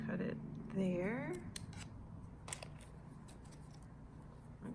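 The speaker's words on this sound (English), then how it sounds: "I'm going to cut it there." Scissors snip through material while a florist trims a base layer for a vintage bouquet handle, a few close, sharp cuts alongside brief speech.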